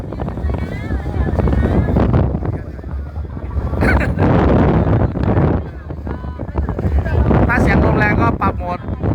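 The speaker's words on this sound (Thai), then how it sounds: "เสียงลมอาจจะพัดแรงนะฮะ" Loud, gusty wind buffets the microphone on a boat at sea off Phuket, roaring in waves with water and engine noise beneath; a voice speaks intermittently.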